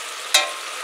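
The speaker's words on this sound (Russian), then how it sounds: "Теперь мы в этой же кастрюльке будем поджаривать немножечко ее." Candied grapefruit peel frying in a small saucepan with little liquid left, a steady sizzle with one brief scrape of a spatula stirring, close and alone.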